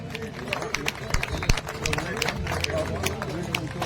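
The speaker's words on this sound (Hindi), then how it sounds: "जोरदार तालियां बजाएं" An audience at a political event for a Sikar MLA bursts into steady, loud applause, dense clapping mixed with crowd murmur and voices talking over it.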